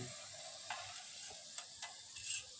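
Shukto, a Bengali vegetable dish, cooking in a pan outdoors in a field, with a soft sizzle under a few sharp scraping clicks of a stirring utensil. The sound is close but quiet, with no talking.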